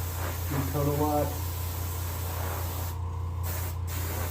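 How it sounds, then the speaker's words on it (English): Continuous airbrush hiss as a white paint coat is sprayed onto a white crappie taxidermy mount, with a short burst of speech near the start and the spray cutting out briefly toward the end. "And then just spray my fish."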